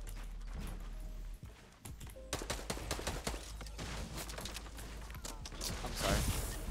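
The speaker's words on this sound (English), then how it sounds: "I'm getting shot from all directions." Rapid bursts of automatic gunfire rattle from several directions in the Fortnite battle royale, sharp repeated shots piling up continuously and loudly over a steady game background.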